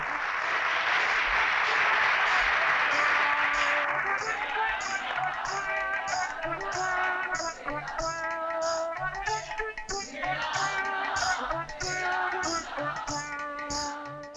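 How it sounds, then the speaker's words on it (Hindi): A burst of applause fills the opening seconds, then fades as voices and tonal music take over. "तालियां।"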